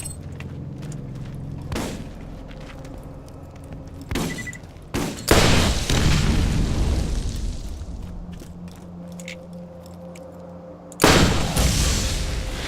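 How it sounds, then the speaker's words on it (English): Explosions and gunfire from the video game Borderlands, heavy booms bursting out over a steady low rumble, with rapid muzzle-flash fire between blasts and a final loud explosion near the end. "Cool guys don't look at explosions."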